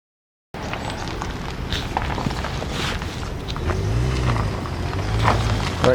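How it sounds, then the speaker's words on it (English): A car reverses on a street in rural western Turkey: a steady outdoor rumble of engine and tyre noise, with a low engine drone growing stronger toward the end. "there's a car just reversing"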